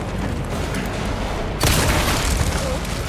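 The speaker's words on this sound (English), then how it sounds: "Right, that's another explosion." Dynamite explosion in Resident Evil 4, a single sudden loud boom about halfway through that cuts over continuous game background noise and rumbles away.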